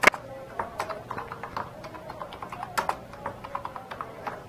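Fingers type on a computer keyboard while entering text in MS Word, producing quick, close, irregular key clicks with a few sharper taps.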